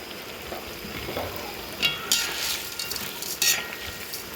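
Meat and macaroni fry in a pan for plov, giving a soft, steady sizzle. A few sharper crackles and pops break through now and then, and there is no talking.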